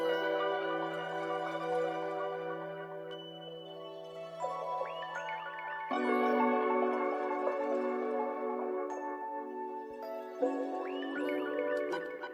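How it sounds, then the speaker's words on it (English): Plucked harp-like notes cycle in a looping pattern over sustained tones, moderately quiet and evenly paced, with no voices. "So next I added this crazy harp."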